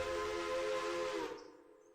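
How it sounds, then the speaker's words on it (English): Steam locomotive whistle on a passenger train in the Railroader video game: a single sustained, bright, fairly deep chime held steadily for over a second before cutting off, leaving a short fading tail. "I don't want a deep whistle for the passenger train"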